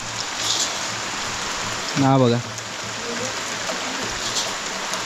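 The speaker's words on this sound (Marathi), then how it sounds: "मुसळधार पाऊस आहे चांगला थोड्या वेळात पाणी व्हावेल एवढा पाऊस पडतो आहे" A dense, steady hiss of heavy rain fills the scene, briefly interrupted by a short spoken remark.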